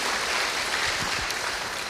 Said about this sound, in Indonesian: Boleh kasih tepuk tangan yang terbaik buat Tuhan Yesus Kristus.